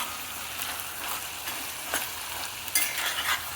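Coriander seeds stirred and frying in a pan for a pesala kura (green moong) dish: a steady close sizzle with scraping stir strokes at irregular intervals, no voices.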